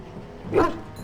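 A single short dog bark from a pet dog in Dragon Age Origins, one quick moderately loud yap rising out of quiet game ambience.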